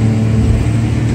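Engine of a BMW car revving hard under throttle during a driving lesson in first gear, a loud steady low drone with a strong hum that holds without pause and no voices over it.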